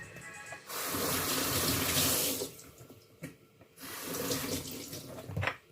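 Eggplants are rinsed under a running kitchen tap, water gushing and splashing steadily with brief breaks as the vegetables are handled, fairly quiet and close.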